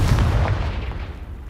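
A Confringo blasting spell exploding in the game Hogwarts Legacy, a single heavy booming blast at the start whose low rumble decays over the next second.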